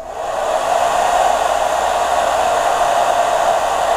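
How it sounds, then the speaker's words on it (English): A hair dryer on its lowest setting, powered from a FlashFish 540Wh 600W power station, blowing in a steady, loud, close whoosh that swells up at the start and then holds even, with no voices. "let's put it on the lowest setting here on my dryer"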